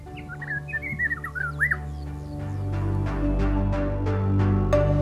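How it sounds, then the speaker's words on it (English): Songs of the rock runner and Angola cave chat in rocky, forested habitat at Tundavala, Angola: a run of clear, rising whistled phrases, followed by a low rumbling background with faint sharp calls. "Two of them are the rock runner, a bird of restricted distribution, and the Angola cave chat"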